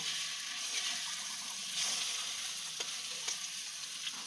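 Eggplant omelette (tortang talong) frying in oil over a wood fire, a continuous close sizzle with scattered crackles and pops, no talk.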